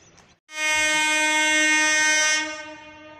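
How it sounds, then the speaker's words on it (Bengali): MEMU local train arriving at a station, sounding one long, loud, steady horn blast that starts abruptly and holds for about two seconds before tapering off. "আমাদের আজিমগঞ্জ থেকে ট্রেন, মেমো ট্রেন ঢুকে গেল, মেমো লোকাল।"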